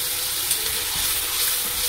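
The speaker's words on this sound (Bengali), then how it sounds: "এটাতে সামান্য একটু জল দেব, একটু জল দিচ্ছি অল্প করে" Water is poured into a hot pan of egg curry, giving a steady hissing gush and sizzle that lasts under two seconds at close range, with no voices over it.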